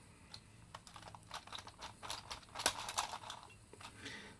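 A Time Machine puzzle cube being twisted, its turns giving a rapid run of small plastic clicks and clacks, close up and fairly quiet, with no talking.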